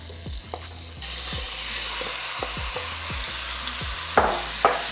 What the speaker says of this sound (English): now we're gonna jump right in and throw all our shrimp down